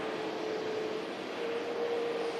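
An Aer Lingus UK Airbus A330 airliner passes over Manchester Airport, a steady, moderately loud engine roar with a faint sustained whine, heard alone.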